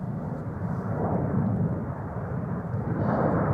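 An Embraer 190 jet taxis toward the runway threshold at Amsterdam Schiphol Airport, a steady loud low rumble of engine noise with no breaks, no voices over it.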